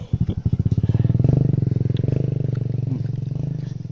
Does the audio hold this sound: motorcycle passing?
yes